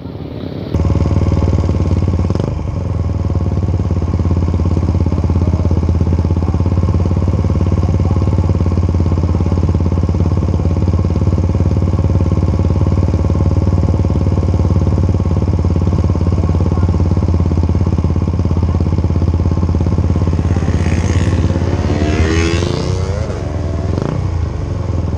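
A Suzuki Satria FU motorcycle with a modified exhaust idles steadily and loudly close by, with a rough, throbbing engine note. A few revs rise near the end.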